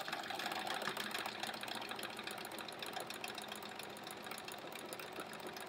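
A sewing machine runs steadily at speed for free-motion quilting a meander pattern, its rapid needle chatter and motor hum continuous and close, with no talk.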